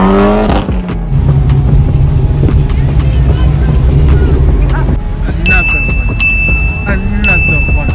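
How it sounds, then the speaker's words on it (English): A Chevrolet Camaro ZL1 rumbles loudly past at a crowded outdoor car show, its engine roaring close by under excited talk and crowd noise. "Another one, and that's the ZL1. That's my dream car right there."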